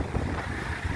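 Strong night wind whips past with a sandstorm, a steady broadband roar with gusty buffeting against the microphone throughout.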